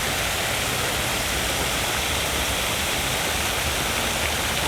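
A stream of yellowish-brown water flows steadily, a dense, unbroken rush that fills the scene at close range with no pauses and no voices.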